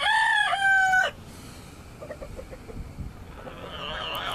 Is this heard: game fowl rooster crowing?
yes